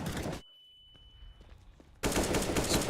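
Rapid automatic gunfire from a Counter-Strike match bursts out loud, drops into a near-silent stretch with faint scattered ticks, then resumes as dense, sustained shooting.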